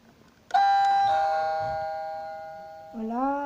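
The doorbell on a Playmobil toy town house sounds a bright electronic chime. A sharp first tone slowly decays, and a second lower tone follows about two and a half seconds later. It is loud and close.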